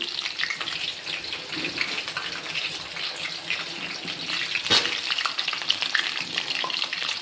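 Bitter gourd frying in a pan for a home dinner, with a steady bright sizzle of oil throughout and occasional stirring scrapes, close and moderately loud, no talking.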